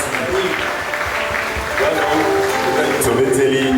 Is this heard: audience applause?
yes